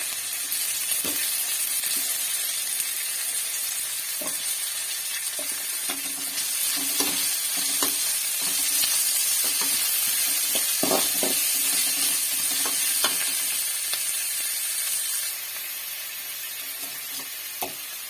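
Mutton liver and chopped tomato sizzle steadily as they are sautéed in a pan, with a constant frying hiss broken by scattered scrapes and taps from stirring. There is no talking.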